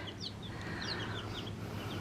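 Soft clucking and peeping from twelve chicks, continuous and close, with a steady low background hum underneath.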